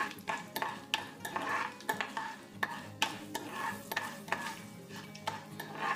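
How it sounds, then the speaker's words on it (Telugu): Cloves, cinnamon, mustard seeds and chana dal frying in a pan give a crackling sizzle, with repeated spatula scrapes and knocks from stirring, close and continuous with no talking. "వీటిని మనం వేయించుకోవాలండి"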